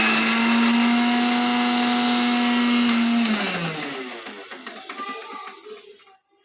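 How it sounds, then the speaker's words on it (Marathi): A mixer grinder whirs loudly and steadily as it grinds green chillies and garlic, then winds down over its final seconds with rattling as the blades slow and stop. "मिरच्या आणि लसूण टाकलेले आहेत आणि ते आता मम्मी मिक्सरमधून काढणार आहे."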